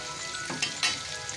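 Chopped onions fry in hot oil with dried chillies, bay leaf and whole cumin, a steady close sizzle with a couple of brief stirring clatters.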